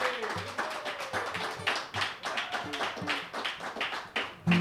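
Crowd at a telethon clapping, uneven bursts of applause and individual claps near and fairly loud, with a voice briefly heard among them.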